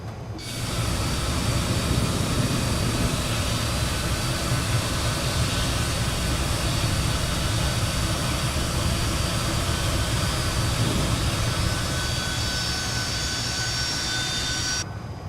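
An F28 jet engine spools up inside a Microsoft Flight Simulator cockpit, a steady, loud broadband roar with faint high whine lines that holds evenly throughout, alone with no voices.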